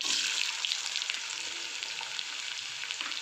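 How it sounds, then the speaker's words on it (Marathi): Chopped carrots hitting hot tempered oil in a pan for a spicy carrot fry, giving a loud, dense, continuous sizzle that holds steady throughout with no voices. "आता आपण गाजर टाकून घेऊया."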